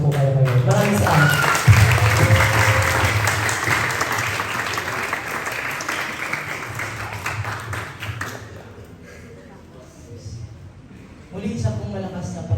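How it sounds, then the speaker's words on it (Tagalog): A crowd at a youth Friday worship night breaks into loud sustained applause and cheering that fades after several seconds, then a brief second burst of clapping, with a voice speaking over the crowd. "Muli isang pong malakas na palakpak po sa Panginoon"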